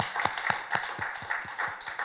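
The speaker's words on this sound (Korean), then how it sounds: "우리 살아계신 하나님께 영광의 박수 올려드리겠습니다" A church congregation claps together in a steady, even rhythm of about four beats per second, a bright unison applause that is moderately loud and heard without talk.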